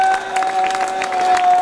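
A rally crowd for Ruffin roars and applauds in a short, loud burst of mixed clapping and cheering, with a steady tone ringing through it.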